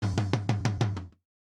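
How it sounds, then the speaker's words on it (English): An isolated rack tom track from a black metal mix, six quick resonant hits with a low sustained boom ringing underneath, ending in a short fade to silence. "tom 1 sounds like this,"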